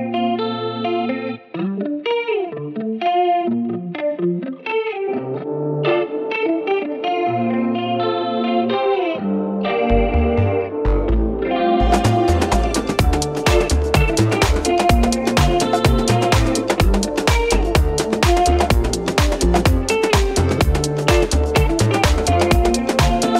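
Electric guitar plays a strummed and picked part with a shimmering chorus effect, joined midway by drums and backing instruments that make it fuller and louder.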